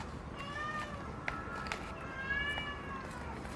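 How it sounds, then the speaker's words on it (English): A cat meows in a few drawn-out, rising and falling cries, moderately loud, over faint background noise and light knocks. "Oh no, my cat's crying,"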